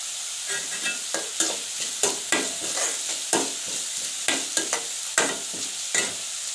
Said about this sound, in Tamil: இது நல்லா முருங்கைக்கீரைக்கு நல்லா வதங்கணும்